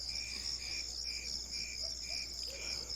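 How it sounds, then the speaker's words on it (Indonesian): Crickets chirp at night in a steady, evenly pulsed rhythm, with repeated bright trills about twice a second, fairly close and alone over a quiet background. "Ya cuman suara jangkrik aja yang keras."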